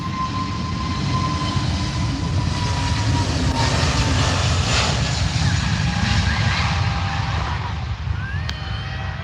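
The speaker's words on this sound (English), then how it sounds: "that's the EasyJet A320 Neo off to Lisbon" An EasyJet Airbus A320neo departs from Manchester Airport, a continuous loud jet roar that holds steady throughout, heard from beside the field.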